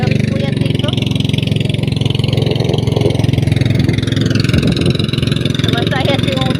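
A motorcycle engine runs with a close, steady, throbbing chug, while a person talks over it throughout.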